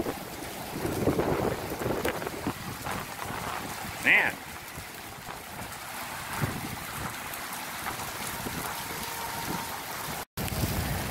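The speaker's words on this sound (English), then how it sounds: "Quickly make it through this rain." Heavy rain drums on a car during a road trip, a steady broadband wash of spray and wind noise that stays loud and unbroken, with one brief surge partway through.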